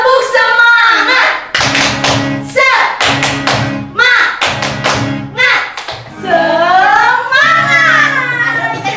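Children at a Sunday school service join in a rhythmic spirit clap, tepuk semangat, with several bursts of loud clapping in patterned groups, alternating with chanted and sung children's voices.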